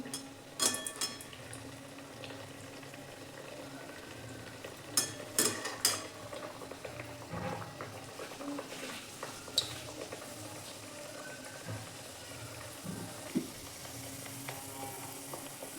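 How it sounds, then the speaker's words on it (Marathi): Puris dropped into hot oil for deep frying, a soft continuous bubbling hiss with scattered sharper crackles and a few clinks of utensils, fairly quiet and close, with no one talking. "आता आपण पुऱ्या तळून घेऊ मस्त पुरी सोडून घेऊ"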